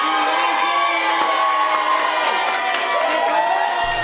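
A crowd stands and cheers for Des Perkins, honored as a Remarkable Woman award recipient, with sustained loud shouting, whoops and applause that fill the whole stretch without a break.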